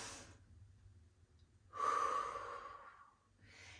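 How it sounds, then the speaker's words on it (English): Slow deep breaths during a squat and lunge workout: a long, fairly close inhale, then quieter stretches and the start of another breath, with no talking. "nice deep breath with your arms here."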